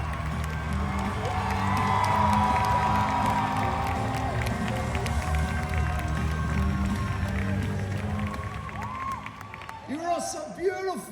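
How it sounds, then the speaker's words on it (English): A convention panel audience cheers and claps, with whoops and shouts rising over a steady roar that tapers off near the end. "Just a round of applause for Terry."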